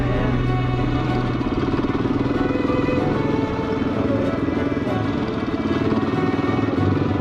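An off-road motorbike engine runs steadily in a rocky mountain canyon, a close, continuous buzzing drone as the rider shifts into first gear.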